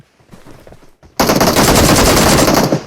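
Sustained automatic gunfire in PUBG Mobile bursts in loud and close after a quieter opening, a rapid continuous rattle of shots with no talking.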